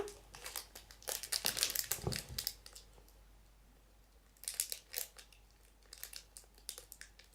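A foil packet of 2014-15 football cards crinkles and crackles as hands tug and try to tear it open, in two bursts of close, papery rustling with a quiet pause between.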